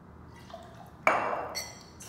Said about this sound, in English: Next, we're gonna add 1/2 ounce of banana liqueur.